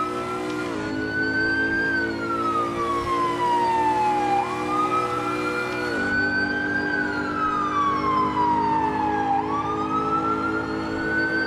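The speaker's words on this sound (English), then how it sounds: "So let's get these sirens on." A police car siren in the Assetto Corsa video game wails loudly and continuously, its pitch sweeping slowly up and down in long cycles over a steady engine rumble.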